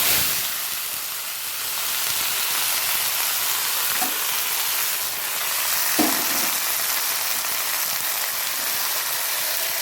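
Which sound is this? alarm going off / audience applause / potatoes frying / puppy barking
potatoes frying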